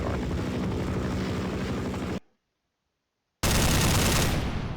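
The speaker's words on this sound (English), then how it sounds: "Where are you? Attack helicopter." Attack helicopter in a Minecraft mob battle, loud continuous rotor drone with rapid gunfire-like rattling, cut by about a second of silence before resuming just as loud.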